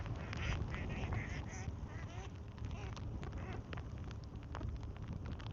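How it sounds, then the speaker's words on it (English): Ducks quack at night near the water during a fishing outing, a steady run of raspy calls over dense low background noise, faint and somewhat distant. "There's some angry ducks down there."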